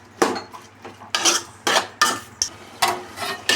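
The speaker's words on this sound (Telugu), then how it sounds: "క్యాలీఫ్లవర్ వేసుకొని ఇట్లా ఉప్పు కారం అంతా ఈ పచ్చళ్ళు బాగా పట్టేటట్టు మంచిగా కలుపుకోవాలి" Cauliflower curry being stirred with salt and chili powder, giving repeated rhythmic metal scrapes and clatters of a spoon against a pan, close and fairly loud, about a dozen strokes with no talk.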